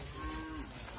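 A red sacrificial cow lets out a single drawn-out moo, close and fairly loud over outdoor background noise.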